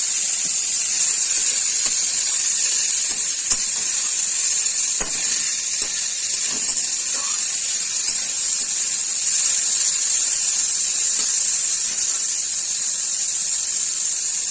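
Pieces of sweet pumpkin fry in a little hot oil in a pan. They give a steady, bright sizzling hiss that runs unbroken throughout, close and fairly loud, with a few faint clinks and taps and no talking.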